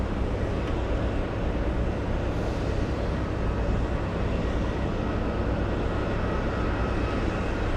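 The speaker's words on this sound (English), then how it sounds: "This is starting its takeoff roll right next to us." An American Airlines jet on its takeoff roll at Boston Logan airport, a loud steady engine roar rumbling close by and continuing without break.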